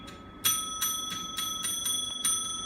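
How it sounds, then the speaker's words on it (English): A small hand bell rings repeatedly, bright metallic strikes about every third of a second, each tone lingering and overlapping the next, close by. "why she literally just stood there ringing a bell"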